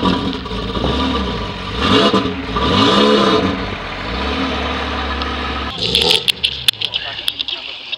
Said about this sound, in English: it's because it's got a full titanium exhaust system on it.